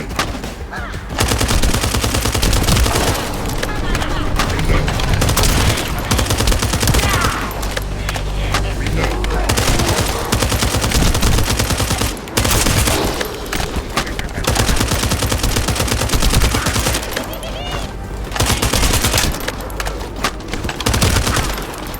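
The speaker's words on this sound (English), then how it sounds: "That stopped the gunfire." Dense gunfire from the shooter game The First Descendant, loud rapid automatic bursts and explosive impacts filling nearly the whole span with only brief gaps of quiet between volleys.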